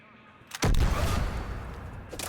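Three-round-burst rifle in Mass Effect 3 fires one sharp, loud burst cluster that rings out alone, with a second fainter shot near the end.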